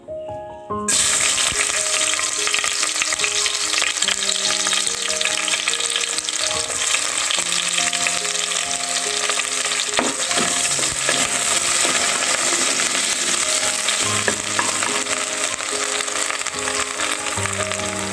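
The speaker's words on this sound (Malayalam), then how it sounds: "പാത്രം ചൂടായി. അതിലേക്ക് വെളിച്ചെണ്ണ, സൺഫ്ലവർ ഓയിൽ അത് ഒഴിച്ചിട്ടുണ്ട്. ഇനി ഇത് അതിലേക്കുള്ള സവാള ഇട്ട് കൊടുക്കാം." Sliced onions dropped into hot coconut and sunflower oil set off a sudden loud sizzle that keeps crackling steadily, with faint clinks and stirring over a background of music.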